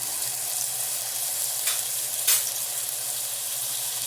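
Garlic fries with onions and macaroni in a pan, a steady close sizzle with a low hum beneath and two brief sharper spits of crackle, no voices.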